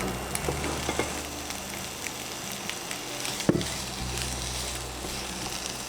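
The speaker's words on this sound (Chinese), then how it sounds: "也是等油热后，开始倒入洋葱，翻炒1分钟。" Onions stir-fried in a spoonful of hot oil over medium heat give a steady, close sizzle with light scraping stirs, and one sharp clack of a utensil near the middle.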